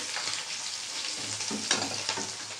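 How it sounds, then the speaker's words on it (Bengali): Pointed gourd sizzles and crackles as it fries in a pan, with a couple of stirring scrapes over the steady frying hiss. "যেহেতু সম্বারটা ভাজা হয়ে গেছে, পটলটা আমি দিয়ে দিচ্ছি"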